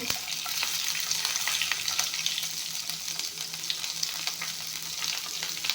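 Cumin and garlic fry in a hot pan with ginger and green chillies, giving a steady, dense sizzle with occasional crackles and stirring scrapes close by.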